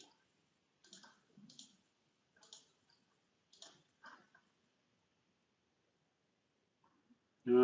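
Mouse clicks made while drawing a boundary in Trimble Stratus software, about eight sharp, light clicks spaced irregularly over several seconds, close and quiet in a silent room, followed by a brief louder noise at the end.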